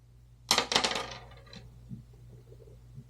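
Dice rolled during a tabletop softball board game: a quick clatter of several sharp hits tumbling across a hard surface, loud and close, then settling into quiet room hum.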